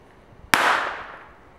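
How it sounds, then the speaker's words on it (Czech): A pirátka firecracker set off next to a bottle full of water makes one sharp, loud bang that rings out into a fading, hissing decay after a quiet start. "Takže dneska si ukážeme, co udělá pirátka s flaškou plnou vody."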